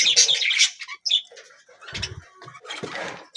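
Budgie chicks in a breeding box give shrill, scratchy chirps and squeaks in uneven bursts, close by, mixed with faint rustling.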